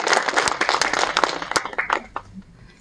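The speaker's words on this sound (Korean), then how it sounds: "축하의 말씀을 해주신 김수복 회장님께 다시 한번 감사의 박수 부탁드립니다" Audience applause at the opening ceremony of a literary museum, a dense burst of clapping from a room of people that thins out and fades over a couple of seconds.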